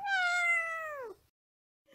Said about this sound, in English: He's always meowing.